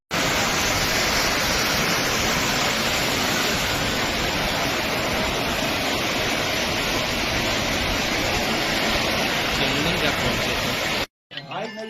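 Water gushes loud and steady from a tap at a village piped water supply scheme, a constant rushing flow that cuts off abruptly near the end.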